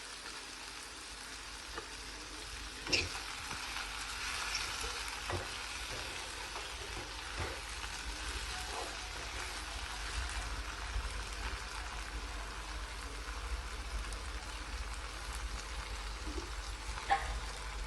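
Ginger and shallot paste fries in a pan for a raw cashew and prawn curry, giving a steady close sizzle with a few sharp utensil clinks and scrapes against the pan.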